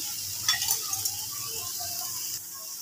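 Spices being stirred into fish curry frying in a pan, with a continuous sizzle, a few scraping stirs and light utensil clinks near the start.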